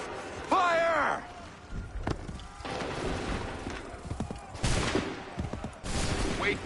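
Musket volley fire in Assassin's Creed 3, several sharp gunshot cracks and rolling bursts spread across the scene, with battle shouts and a brief voice between the shots.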